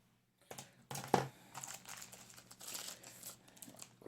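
Plastic packaging of an Art Minds traveler's notebook kit crinkles and rustles close up in a few quick bursts after a short silence, with soft handling noises in between.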